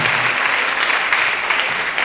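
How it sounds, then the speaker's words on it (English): An audience at a school signing-day event applauds loudly, with dense, steady clapping that fills the whole moment. "you should clap it up for yourselves, man"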